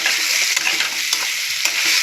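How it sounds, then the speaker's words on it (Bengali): Potatoes frying in oil with turmeric and salt give off a loud, dense, steady sizzle, close up, with a few brief stirring scrapes. "আলুটা ভালো করে ভেজে নেবো"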